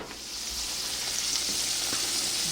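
Breaded turkey fingers fry in hot oil with a steady, close, dense sizzle and bubbling that holds constant, with no voices over it.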